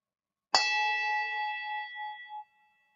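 A single bell is struck once, giving a sharp metallic strike that rings out in a bright sustained tone and fades over about two seconds with a gentle pulsing hum, heard alone.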